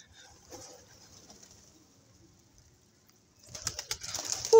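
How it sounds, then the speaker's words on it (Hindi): Pigeons coo faintly for several seconds, then a burst of wing flapping and louder fluttering rises near the end, close and without talk. "ऐसे ना कबूतर थोड़ी आलसी हो रहे हैं"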